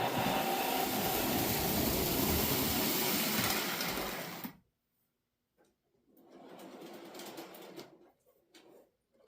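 A model train locomotive motor whirs steadily for several seconds, then cuts out; after a short silence it runs again in uneven bursts, close and fairly loud.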